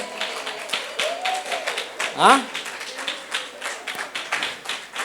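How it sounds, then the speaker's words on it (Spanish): Applause from a church congregation, a steady patter of clapping running through the whole stretch while a voice speaks over it. "Deme un aplauso al Señor."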